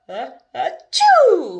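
A reader's voice imitates Papa Bear sneezing, a quick two-part wind-up that breaks into a loud, drawn-out achoo, heard alone and up close.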